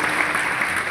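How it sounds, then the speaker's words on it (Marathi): A crowd at a kirtan gathering in Selu applauds loudly for a local civic leader, a dense, continuous wash of clapping heard up close through a short burst. "एकदा जोरदार टाळ्या वाजवा"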